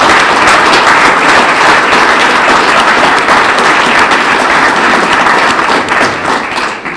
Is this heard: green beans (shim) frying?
no